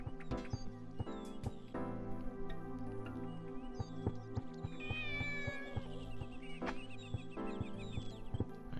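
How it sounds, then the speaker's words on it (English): A cat meows several times in the video game Shenmue, short mewing cries over steady background music and ambient game sounds, fairly close and clear. "Let's go feed this cat."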